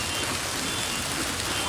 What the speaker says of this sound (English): The hail is getting bigger.